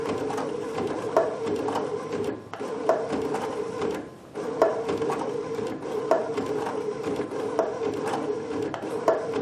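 A Baby Lock Sashiko sewing machine stitches one stitch at a time, each cycle a mechanical whir and clunk repeating at an even pace with a brief pause midway, close and moderately loud.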